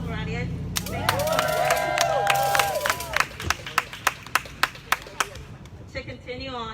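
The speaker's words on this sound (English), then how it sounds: "another round of applause for Radia." A crowd at an outdoor protest outside an immigration field office applauds, with a burst of mixed clapping and cheering that thins into a string of sharp, isolated claps before fading.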